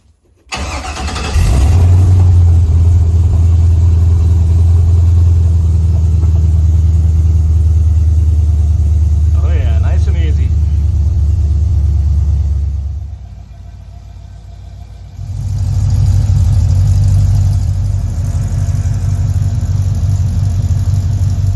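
Truck engine with a newly fitted brake booster cranks, catches and settles into a loud, deep, steady idle; it quietens for a moment, then rumbles strongly again, close and alone with no talk.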